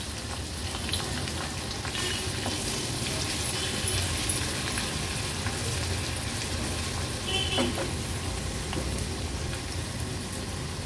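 Ten to twelve garlic cloves and two green chillies sautéing in hot oil as a tempering for an Agri Koli baby shrimp thali, giving a continuous dense sizzle and hiss with faint stirring, no one speaking.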